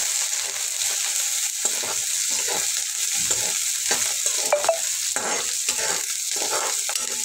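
Onion and coriander sizzle steadily in a pan on low gas, with a spoon scraping and stirring through them in uneven strokes; close and continuous, no talking.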